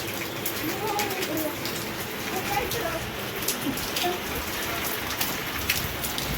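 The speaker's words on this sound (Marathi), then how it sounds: "आमच्या इथे किती पाऊस आलाय बघा" A steady downpour roars continuously, with faint bird calls and a muffled voice partly buried beneath the rain.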